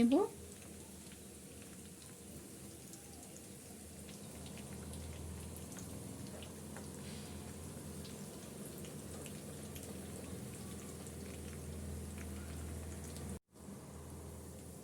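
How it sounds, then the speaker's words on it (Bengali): Potato-stuffed snacks fry in oil over medium-low heat, giving a soft, steady sizzle and patter like light rain that lasts throughout, faint and even, with one brief dropout near the end. "নাস্তাগুলো মিডিয়াম টু লো আছে উল্টিয়ে পাল্টিয়ে আমি গোল্ডেন ব্রাউন করে ভেজে"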